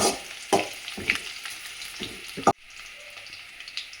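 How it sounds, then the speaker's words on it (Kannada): Onions and curry leaves sizzle and spatter in hot oil, tempering for a Karnataka-style egg sambar, while a spoon scrapes and stirs several times, then the frying settles to a quieter hiss. "ಇವಾಗ ಒಗ್ಗರಣೆ ಹಾಕ್ಕೊಳ್ತಾ ಇದ್ದೀವಿ. ಈರುಳ್ಳಿ, ಕರಿಬೇವಿನ ಸೊಪ್ಪು"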